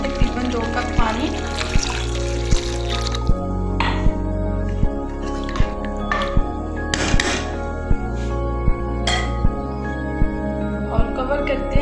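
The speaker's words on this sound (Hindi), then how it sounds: "अब इसमें हम डालते हैं तकरीबन 2 कप पानी।" About two cups of water poured into fried masala for a sev tamatar salan, a wet splashing and sizzling pour over a steady low kitchen hum, with soft regular ticks throughout.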